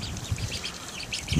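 Ducks being put into water give short, scattered quacks and calls against a steady wet background, close by and fairly loud, with no talking.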